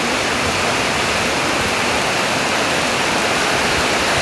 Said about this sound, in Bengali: জোরে বৃষ্টি আইছে, অনেক জোরে।